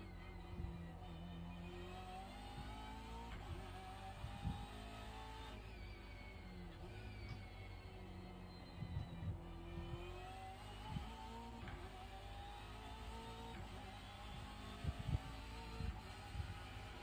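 Race car engines rev and shift pitch continuously in an iRacing sim race, with wavering engine tones and occasional knocks, fairly quiet and steady throughout.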